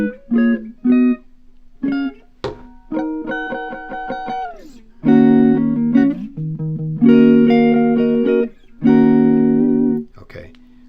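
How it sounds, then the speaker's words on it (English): Electric guitar working through the chord progression of a song, clean sustained chords struck in loud bursts with short gaps between them, close and prominent with a touch of effect and no spoken words. "Now, if I were to play the full chord progression from the 6 to the 6 up, it sounds like this."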